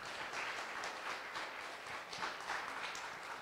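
Audience applause for the 15-18 age group contestants at a youth singing competition, steady and crowd-wide, filling the space without a break and with no talk over it.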